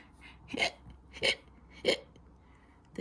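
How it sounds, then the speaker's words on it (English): A cartoon skeleton's hiccups sound in a steady rhythm, four short sharp gulps roughly every half second, fairly close and clear over a quiet background. "The hiccups stayed."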